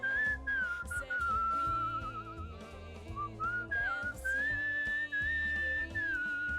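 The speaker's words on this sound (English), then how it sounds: "I like whistling. It's cool." A game character whistles a wandering melody in Where the Water Tastes Like Wine, a clear sustained tune over steady background music, with no talking.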